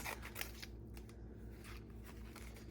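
Scissors snip through paper planner pieces for a pocket Moleskine daily layout, making a few soft close crunchy cuts in a quiet room with a low steady hum underneath.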